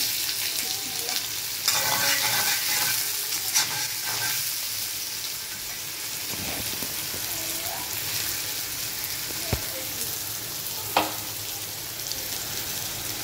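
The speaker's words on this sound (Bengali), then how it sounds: "দিয়ে দিলাম কিছু পেঁয়াজ কুচি" Chopped onions frying in hot oil give a steady, close sizzle with a few scrapes of stirring and no talk over it.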